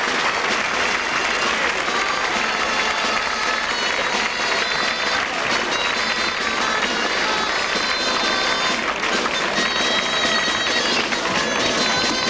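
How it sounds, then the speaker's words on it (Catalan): Sustained crowd applause in a town square in Granollers after a castellers team's human-tower attempts, dense clapping with some cheering that holds steady and loud for about twelve seconds. "van rebre l'aplaudiment del públic congregat a la plaça"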